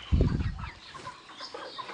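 Farm chickens eager for fermented feed give a short, close burst of clucking at the start, then fall to a faint, low murmur.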